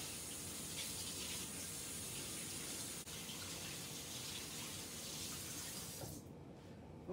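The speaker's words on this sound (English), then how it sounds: "Gotta wash my hands." Steady running water from a kitchen tap while hands are washed during meatloaf preparation, a continuous close hiss that cuts off abruptly near the end.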